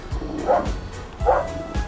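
Two sharp dog barks, one about half a second in and another about a second later, at close range. Each is a short yip over a low background murmur.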